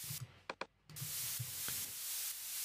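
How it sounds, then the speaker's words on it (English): A fizzy white-noise synth sound from the noise generator in Ableton Live, looped in a track. The hiss is bright and steady, broken by a few short gaps and sharp clicks. "I'm just using the noise generator. If I just loop it up around that. We're getting that fizzy sound"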